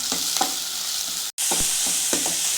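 Onions sizzle steadily in a hot pan, with scraping stirs at intervals and a brief silent gap partway through.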